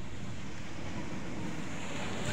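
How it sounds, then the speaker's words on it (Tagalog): Strong sea waves roll onto a beach at Agoo, La Union, a thick, continuous roar of surf and wind rumbling close to the microphone without a break. "lakas ng alon talaga"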